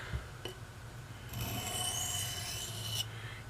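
Steel knife blade drawn across a 400 grit whetstone with light pressure, a soft, close gritty rasp that starts with a brief scrape and then one long even stroke lasting over a second, alone and quiet.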